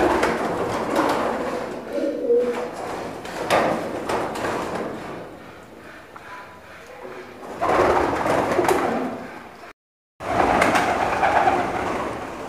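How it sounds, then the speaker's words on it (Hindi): Pigeons feeding on mixed grain give soft cooing and scattered pecking and shuffling, moderately close and continuous, with a brief silent gap near the end. "मिक्स दाने को कितनी खुशी से कबूतर खा लेते हैं,"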